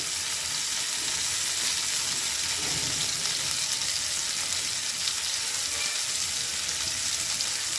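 Raw shrimp frying in a pan for a bottle gourd peel and shrimp bharta, giving a steady, bright, even sizzle that holds throughout, close and fairly loud, with no voices.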